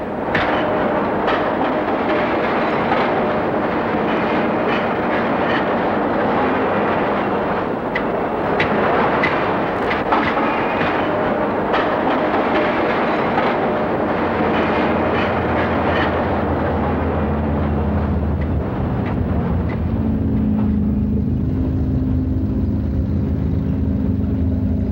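Long trains of railway wagons hauling war material toward Kursk, a loud continuous rumble with rolling clatter and heavy low booms, in old wartime footage, steady throughout and easing slightly near the end.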